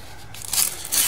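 A small piece of abrasive cloth is torn off for cleaning copper pipe: a brief, close, dry ripping crackle in two quick bursts.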